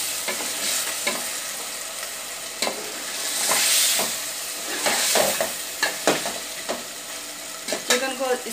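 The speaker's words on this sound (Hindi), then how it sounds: "चिकन डाल के इसको अच्छी तरह भून लें।" Chicken stir-fried with masala for a deghi palak chicken dish: continuous sizzling in a pot broken by repeated spoon scrapes and stirring knocks, near and fairly loud, with no speech.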